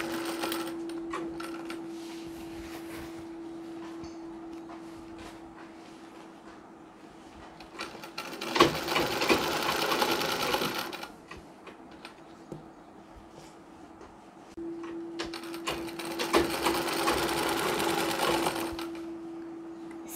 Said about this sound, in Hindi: सिलाई हमें जहाँ तक लगानी है वहीं से मैं सिलाई लगाना शुरू कर रही हूँ